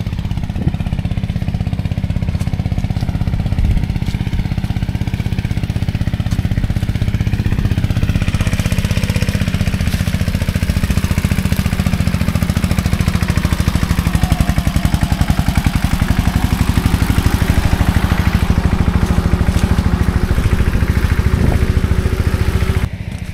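A farm tractor's engine runs steadily close by on a muddy village lane, a loud, continuous low rumble and clatter with no pauses over the whole stretch.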